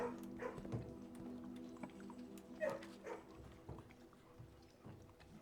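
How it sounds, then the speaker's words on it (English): Dogs bark and yip faintly in a kennel room in the video game Blue Prince, with a few soft scattered barks over a low steady background hum. "Dogs."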